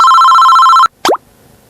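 An electronic telephone ringtone plays loud and steady, then cuts off abruptly, followed by a short rising electronic blip, with no talking.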